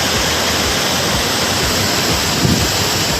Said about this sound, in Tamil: அருவியில் நீர் அதிகமாக விழும் நிலையில் கடும் வெள்ளப்பெருக்கு ஏற்பட்டுள்ளது